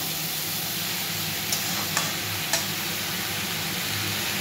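Ash gourd frying in a pan for a sweet-and-spicy ghonto, giving a steady close sizzle and hiss with a few sharp clicks of the spatula as it is stirred.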